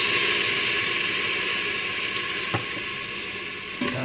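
Chicken broth is poured into a hot pan of chicken fried rice, giving a steady, loud wash of sizzling and bubbling with a brief clatter of a utensil near the end.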